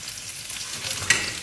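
Vegetables sizzle and crackle in a hot wok as they are stir-fried for a quick green curry, a close, steady frying hiss with a brief scrape of stirring near the end.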